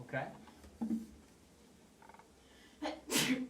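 A quick sneeze bursts out near the end, sharp and noisy, after a few faint spoken sounds and breaths in a quiet room.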